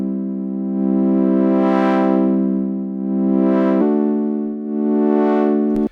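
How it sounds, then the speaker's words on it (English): A buzzy sustained synth tone, steady pitch with one step change, its brightness slowly sweeping open and closed three times through a low-pass filter. "you put in a low pass filter of some kind"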